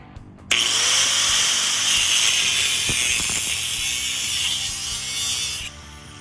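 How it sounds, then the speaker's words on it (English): A power tool or ratchet runs steadily for about five seconds while a bolt is torqued on a DIY fat tire e-bike, a loud continuous whirring with faint clicks, starting and stopping abruptly. "I'm just gonna torque it a little bit one time here and see what we got"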